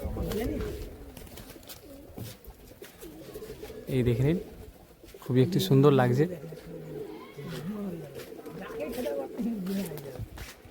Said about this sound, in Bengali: দাদার দেখুন তাওয়াতে অনেক পায়রা বসে আছে